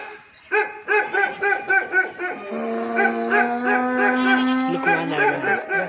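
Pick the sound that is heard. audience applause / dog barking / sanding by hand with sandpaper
dog barking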